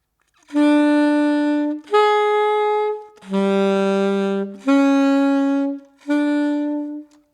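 Five sustained blues guide-tone chords ring out one after another, each held for over a second with a brief gap between them, clear and alone.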